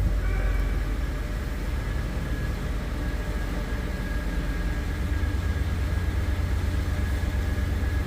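A 2015 Ford F-150 engine idles steadily just after startup, a constant low rumble with a faint high whine, close and loud with no talking.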